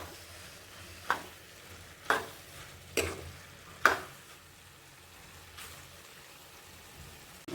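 Pasta stirred in a pan while the last of its water cooks off, with a faint steady sizzle beneath four or five sharp spoon scrapes spaced about a second apart.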